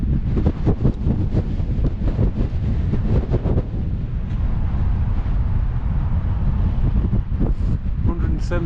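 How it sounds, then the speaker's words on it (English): Strong, stormy wind blows in off the bay at the start of the Way of the Roses route, a loud continuous roar buffeting the microphone throughout. "It's a bit of a stormy start, very windy coming in off the bay"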